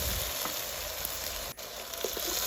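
Steady, close sizzling of food frying in hot oil, a continuous crackling hiss with a brief dip midway and occasional scrapes.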